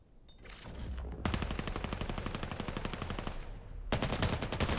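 Rapid automatic gunfire in the VR esports game Artifact during a 5v5 match: dense bursts of fast, loud shots after a short lead-in, a pause, then another sustained volley at the end.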